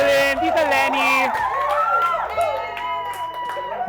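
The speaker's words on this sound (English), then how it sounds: "I just want all of us to please just give a round of applause to all three titas" A game show crowd cheers and whoops for three contestants, loud excited voices and shouts rising together with some applause mixed into the hubbub.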